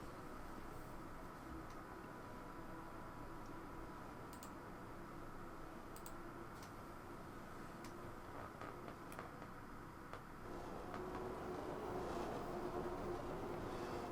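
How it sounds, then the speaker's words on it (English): A Bakerloo Line train in Train Sim World 2 runs with a steady low rumble and faint periodic clicks of the wheels over rail joints, growing slightly louder toward the end, with no talking. "It is hell of a loud, this train."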